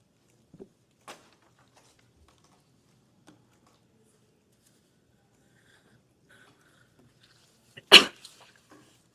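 One sharp, loud sneeze bursts out near the end of a mostly quiet stretch in a House hearing room, preceded by a few faint clicks and small noises. No speech is heard.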